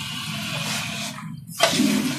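Water runs continuously through a toilet tank's flush valve, a steady rushing hiss that briefly drops out before surging back a little louder.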